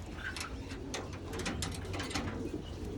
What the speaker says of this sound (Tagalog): Nandito pa rin yung mga kalapati ni Insan